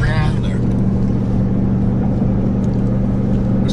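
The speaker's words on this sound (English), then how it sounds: "they hear the engine and the truck is working way too hard" A diesel truck engine laboring hard on a scenic road gives a loud, steady low drone throughout, with a voice briefly heard near the start.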